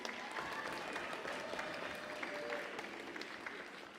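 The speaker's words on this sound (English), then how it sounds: "I want to give a round of applause to Avi Shaver before he comes on up" A crowd at a Bible contest's national finals closing ceremony applauds a young speaker, sustained dense clapping from many hands, fairly distant and steady for the whole stretch.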